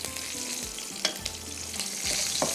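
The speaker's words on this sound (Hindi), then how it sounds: "इसको थोड़ा सा हम फ्राई करेंगे, 1-2 कड़ी पत्ते भी डाल देते हैं" Cumin and mustard seeds with curry leaves fry in hot oil for a prawn curry tarka, a steady close sizzle with faint stirring scrapes throughout and no talk.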